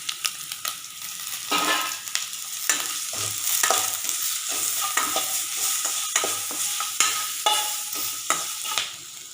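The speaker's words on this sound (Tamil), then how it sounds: "கடைசியாக இஞ்சி பூண்டு விழுது. இதை சேர்த்து நல்லா வதக்கிடுவேன்." Ginger garlic paste sautéed and stirred in a pan for beetroot rice, giving a steady close sizzle with repeated scraping and stirring strokes throughout, no voices.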